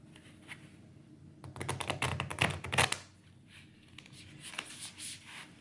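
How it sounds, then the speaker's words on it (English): A new deck of stiff oracle cards riffled in a quick burst of crisp, fluttering clicks, loudest in the middle, with softer handling rustles before and after. "let's get these cards a little mixed up and try to shuffle them"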